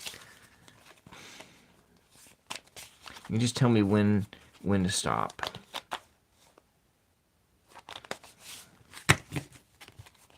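A deck of cards is shuffled by hand in a few short riffling bursts, close and soft, with a person talking between and around the shuffles.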